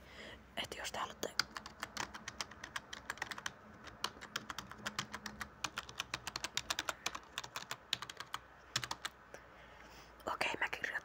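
Rapid, uneven keystrokes on a computer keyboard, with occasional mouse handling, fill the clip in close, crisp bursts, pausing briefly near the end before a final flurry; no speech is heard.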